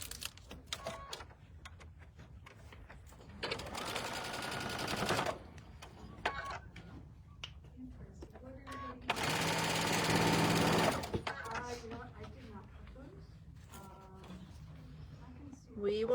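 Sewing machine on a quarter-inch seam joining quilt block pieces, with two bursts of steady rapid stitching of about two seconds each, near and clear, and people chatting quietly between the runs.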